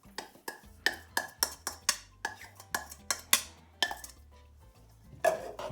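Ground almond and icing sugar go into a mixing bowl for homemade marzipan, with a quick run of bright spoon-on-bowl clinks and taps, close and fairly quiet, in an irregular rhythm with short pauses between.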